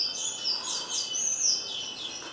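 A small pet bird chirps in bright, repeated tweets inside a home, the high calls steady and fairly close throughout with no talk over them.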